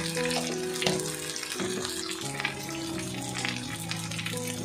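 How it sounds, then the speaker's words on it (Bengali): Chopped ginger frying in oil as turmeric powder is added, for a Golbari-style mutton kosha, a steady close sizzle under tonal background music. "আদাটা দিয়েও কিছুক্ষণ ভাজা করেছে, তারপরে এর মধ্যে হলুদ গুঁড়ো দিয়ে দিচ্ছে।"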